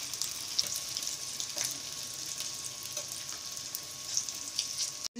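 Fish coated in homemade masala sizzles and fries steadily in a pan, with a continuous crackling hiss and occasional louder pops throughout.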